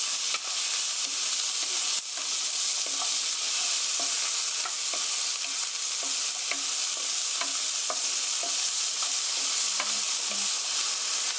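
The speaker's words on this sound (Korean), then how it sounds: "고기가 겉면이 하얗게 익으면 자 여기에 썰어놓은 어니언 양파 넣어주시고요" Beef chop steak with sliced onion frying in a pan, a steady close sizzle running throughout with scattered light stirring knocks and spatters, no talking.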